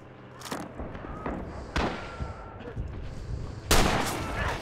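A sniper rifle shot in Rising Storm: Iwo Jima, a World War II Pacific shooter, cracks out amid a scatter of other distant gunfire, with a loud sharp report near the end.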